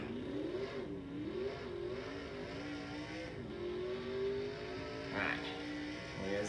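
Kyle Busch's 2021 Halloween race car runs laps around Kansas Speedway, a steady engine drone with gentle rises and falls in pitch, heard alone at moderate level without pauses.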